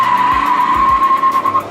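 A Cadillac Escalade's tires squeal in one loud, close screech lasting under two seconds, with a steady high tone over engine rumble.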